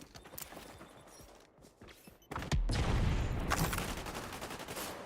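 Gunfire in the video game XDefiant, a loud burst of shots and impacts that starts quietly and then becomes a sustained rattling barrage in the closing seconds, with no voices.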